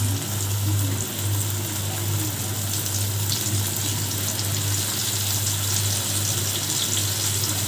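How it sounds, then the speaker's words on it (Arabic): A fish fillet fries in hot oil with a constant, dense sizzle and crackle, loud and close, and no voices over it. "اهو هنحط بقى الزيت سخن اهو، شايفين؟"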